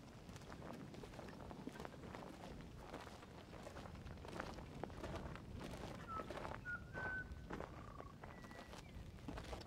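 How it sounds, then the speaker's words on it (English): Butcher birds sing outdoors at an Australian postapocalyptic festival, giving a few faint, clear whistled notes in the latter half over steady, rustling background noise and footsteps. "I think these are butcher birds."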